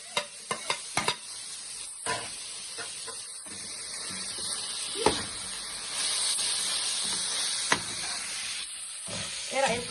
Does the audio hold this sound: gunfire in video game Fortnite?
no